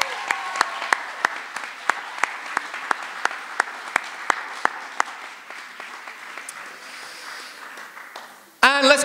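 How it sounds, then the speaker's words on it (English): Audience at a school soiree clapping, thin and sparse, with distinct individual claps in an uneven rhythm over a quiet room. A voice comes in briefly, and a louder burst of sound arrives right at the end. "So let's give them a round of applause."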